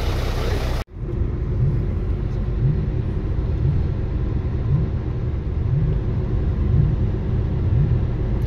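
A supercharged truck idles as it warms up before a drag strip run, a steady deep rumble with a faint rhythmic hunting pulse from the blower. It is loud and continuous, with no talking, after a brief cut near the start.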